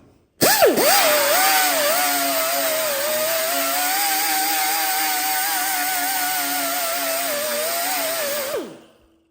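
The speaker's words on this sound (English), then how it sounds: "you're going to need to grind this down to bare steel so that welder has something to stick to" Power grinder taking a car body panel down to bare steel: a loud, steady, high-pitched whine that spins up sharply, holds for about eight seconds, then winds down.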